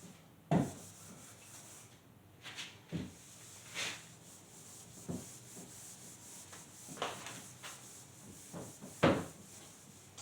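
An eraser rubbing on paper during a children's math lesson on number forms, heard as several short scrubbing bursts with pauses between them, close and fairly quiet.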